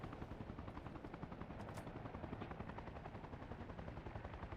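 A helicopter in the video game Arma Reforger, its rotor beating in a steady, rapid, continuous thump that stays fairly close and even throughout.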